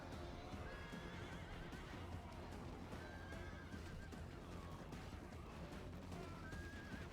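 Cavalry horses fight in a battle in the Rome Total War video game, with whinnies and neighs over a dense, continuous roar of hooves and clashing, steady throughout at moderate level.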